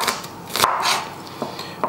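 A knife slices an onion in half on a cutting board while making roast cauliflower and parsnip soup, a few faint crisp cuts and board taps, quiet and close, without talk.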